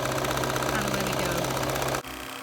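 A sewing machine stitches fabric in a steady, fast mechanical whir with a rhythmic needle pattern. It runs continuously up close, then stops abruptly, leaving a quieter background.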